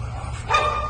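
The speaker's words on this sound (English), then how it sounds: "just moments before the dog barked" A single dog barks once, sharp and mid-distance, over a steady low outdoor hum.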